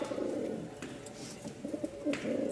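Giribaz pigeons at a pigeon market coo softly in a low, rolling pattern, several throaty calls overlapping against faint background noise, fairly quiet and close with no talk.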